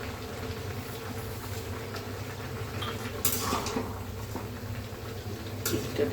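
Chinese-style mixed vegetables get stirred in a pan, a low bubbling simmer running underneath with a few brief scraping clatters of the spatula.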